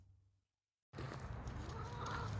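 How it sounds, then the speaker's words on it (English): Chickens clucking inside a horse barn, a close, busy cluster of clucks and soft fowl chatter that starts suddenly after a brief silence and carries on steadily. "And chickens."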